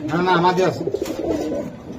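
Budapest pigeons coo in low, throaty rolls close by, overlapping with a person talking nearby.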